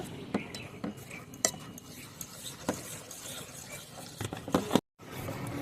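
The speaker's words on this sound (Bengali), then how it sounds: "আতপ চালের গুঁড়োটা দিয়ে ভালোভাবে মিশিয়ে নেব" Rice flour being stirred into a thick batter for village-style teler pitha, with a spoon scraping and clinking against the bowl in short, uneven strokes, close and moderately loud, then a brief silence.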